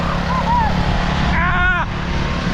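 A turbocharged lawn mower engine runs loud and steady at close range, a continuous low roar throughout, with voices and a brief shout over it.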